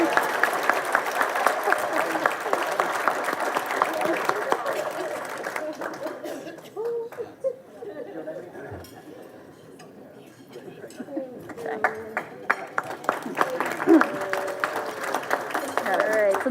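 Applause from diners at an annual Chamber of Commerce awards dinner rises in a loud burst, dips briefly into a quieter murmur, then swells again, with some laughter mixed in.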